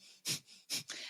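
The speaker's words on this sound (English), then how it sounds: "You're going to just exhale through the nose." Two sharp, forceful nasal exhales, close and breathy, separated by a brief pause, with a softer breath trailing after.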